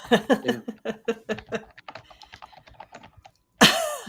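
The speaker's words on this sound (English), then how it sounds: "I hear keyboard clicking." Rapid keyboard clicks tap in bursts, loud at first and then softer, followed by a sudden sharp burst of noise at the end.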